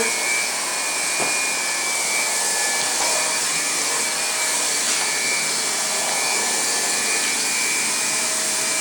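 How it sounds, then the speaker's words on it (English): A hot air plastic welder runs steadily with a constant high-pitched blowing whine, loud and close, holding an even level throughout with no talking. "Got my heat welder here."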